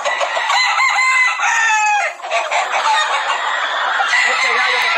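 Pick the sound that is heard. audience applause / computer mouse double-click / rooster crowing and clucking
rooster crowing and clucking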